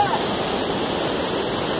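A waterfall near Analândia, Brazil, roars with a steady, dense rush of falling water that fills the whole short stretch at an even loudness, with no pauses or breaks.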